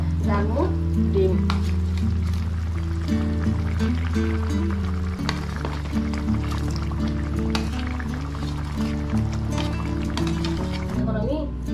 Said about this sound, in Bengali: এখন আমি এটার মধ্যে ডালমু ডিম।